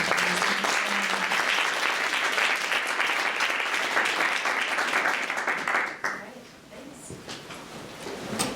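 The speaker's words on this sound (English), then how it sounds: "can we all please give our panel a round of applause?" Audience applause for a UX panel at a live conference session, a dense sustained clapping that fills most of the stretch, then drops off abruptly and thins to scattered claps and room noise near the end.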